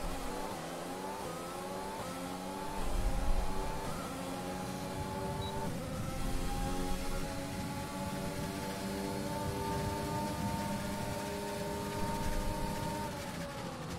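A Formula 1 race car in the F1 2020 video game accelerates steadily through its gears on the Canadian Grand Prix circuit, a high, rising engine whine that climbs in pitch and drops briefly at each shift, heard alone.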